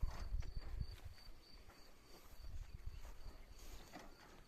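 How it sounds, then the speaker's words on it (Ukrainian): A mare walking on hard ground, her hooves clip-clopping in a loose, uneven rhythm at moderate distance, with faint insect chirring and low rumbling in the background. "Мирно ну, кобила йде."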